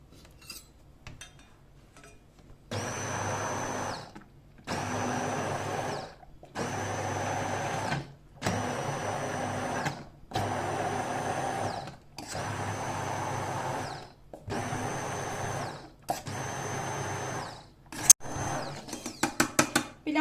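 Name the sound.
blender blending strawberry sauce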